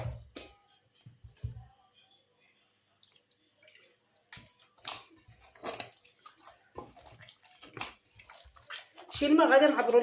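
Water is poured from a glass into a bowl for msemen dough, a brief splashing trickle near the end after scattered quiet handling noises, with someone speaking beforehand.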